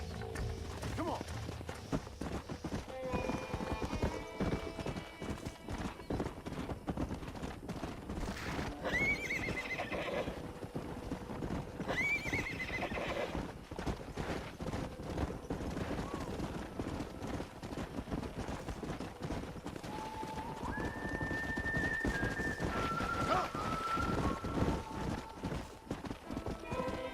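Horses in the video game Red Dead Redemption, galloping with a continuous rapid clip-clop of hooves and several loud whinnies rising above it. The scene is busy and sustained, with faint voices at times.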